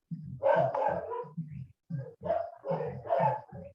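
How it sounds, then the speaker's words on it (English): A dog barks in a quick series of sharp, yappy barks, close by and fairly loud, with short pauses between bursts. "Whose dog is that?"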